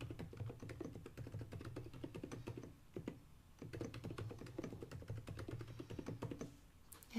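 Rapid clicking keystrokes on a computer keyboard as a password is entered, a steady close run of taps with a brief pause midway, quiet and without talking.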